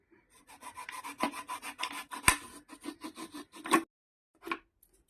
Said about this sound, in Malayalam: ബോട്ടില് ബോട്ടിൽ ഇങ്ങനെ കട്ട് ചെയ്യാം ഇതിൻ്റെ ഈ മോന കട്ട് ചെയ്തിട്ട് കളയാം